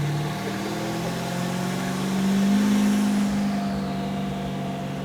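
A Scarbo SV Rover hyper truck with a 1500 hp twin-turbo V8 drones steadily from inside the cab, a loud, deep engine hum that swells briefly mid-pass, with no talking.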